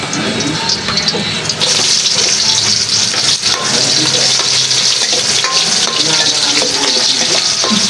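Onions frying loudly in a hot pan, a dense, steady crackling sizzle that stays close and continuous throughout, with occasional stirring and no talking.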